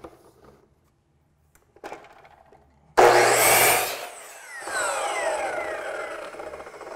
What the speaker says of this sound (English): flip it over, go back up to 0, and cut that flat angle back down.